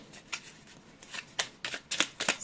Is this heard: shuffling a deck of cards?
yes